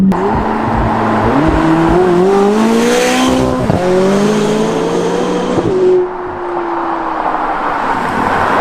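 A McLaren 570GT's turbocharged engine revs hard and climbs through rising gear pulls with audible shifts, loud and close from inside the car, then settles to a steady cruising drone.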